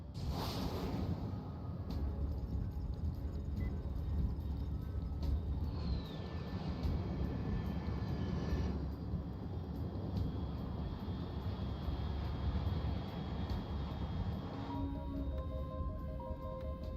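A jet aircraft in the Metal Gear Solid Delta video game roars steadily overhead, a loud continuous broadband rumble with a faint high whine, sustained throughout without speech.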